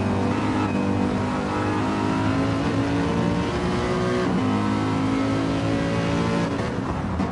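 Race car engine in a racing video game, sustained loud revving and accelerating with steady harmonic whine throughout, no talk.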